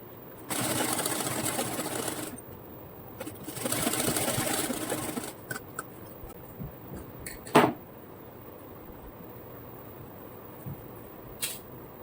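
Sewing machine stitching lace onto the bottom hem of a ladies' pant, two bursts of steady rapid running of about two seconds each, then quiet handling clicks and a sharp knock.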